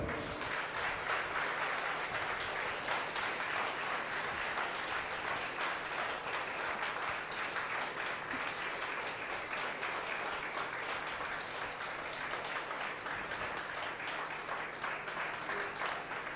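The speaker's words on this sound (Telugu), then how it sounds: "గట్టిగా చప్పట్లు కొట్టండి" Sustained applause from a large audience, loud and even, continuous clapping without pause for the whole stretch.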